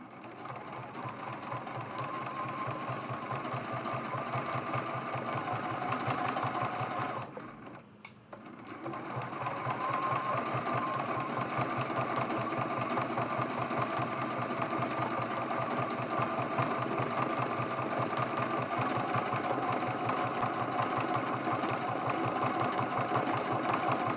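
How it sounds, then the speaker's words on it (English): A home sewing machine free-motion quilts appliqué onto an autumn mug rug, a fast, steady rhythmic stitching hum that runs continuously at close range, pausing once briefly before resuming. "That is probably the fastest way to stitch down your applique, is just by doing a free motion stitch"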